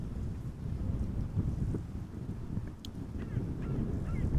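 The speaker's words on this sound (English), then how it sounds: "I think the wind is picking up." Wind gusting across Amsterdam Schiphol Airport buffets the microphone in a steady low roar with rising and falling swells, alone, with no voices.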